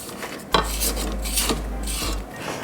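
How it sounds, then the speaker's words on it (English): A utensil scraping batter from the sides and bottom of a mixing bowl, a close, continuous rasping rub with brief pauses, over a low steady hum. "Scrape down the sides of the bowl and you'll find that some of your dry mixture has stuck to the bottom"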